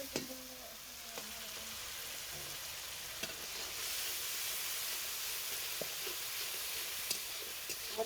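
Masala spices frying in a pan give a steady, soft sizzling hiss with occasional faint clinks and stirring scrapes, close and alone with no talking.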